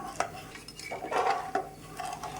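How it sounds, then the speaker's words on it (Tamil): A spoon clinks and scrapes against the metal of a pressure cooker as coconut milk and water are mixed in it, giving irregular close knocks and soft swishes at low volume. "இப்போ இதெல்லாத்தையும் சேர்த்து நல்லா ஒன்று சேர கலக்கிக்கலாம்."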